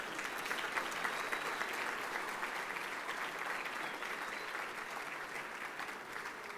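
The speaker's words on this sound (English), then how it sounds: "let's have a round of applause for our Marines up here with the color guard" A dinner crowd at a fundraising event applauds Marines of the color guard, a steady, even wash of many hands clapping that holds at full strength for several seconds without voices.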